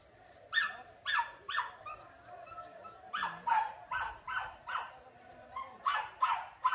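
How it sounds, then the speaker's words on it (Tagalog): A dog barks in repeated bursts, a few spaced single barks followed by quicker runs of sharp barks, fairly close and alone with no talking. "maingay po yung aso"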